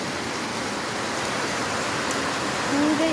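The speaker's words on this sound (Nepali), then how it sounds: "यति पानी परिरह तर मोबाइलमा धेरै देख्दैन रहेछ हौ पानी" Heavy rain falls outside at dusk, a dense, steady hiss with no gaps, filling the whole stretch at an even, moderately loud level.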